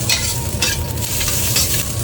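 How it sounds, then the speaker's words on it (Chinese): Diced fatty cured Chinese pork (larou) stir-fried in a hot wok, a steady loud sizzle with scraping stir strokes recurring throughout, close up and without talk. "来，把腊肉的肥肉丁拿下去炒，"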